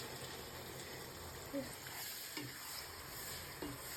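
Eggplant pieces fry in a pan for an egg drumstick curry, giving a faint, continuous hiss with a few soft bumps from stirring.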